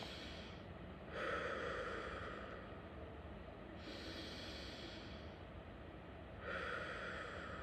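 Slow, deep breaths, three long airy inhales and exhales at an even pace, close and soft, with no talking.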